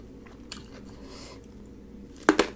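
A crisp bite into chili during a meal of spicy Lao-style bamboo shoot salad gives two close, sharp crunches near the end, after quiet chewing and faint rustling.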